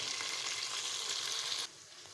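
Tomatoes and two to three green chillies sizzle and fry in a pan for tori and chana dal, a steady loud hiss that drops abruptly near the end as the heat or stirring eases.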